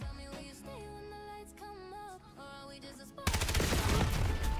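After several seconds of tonal music, a sudden loud, sustained burst of rapid Call of Duty gunfire takes over and continues to the end.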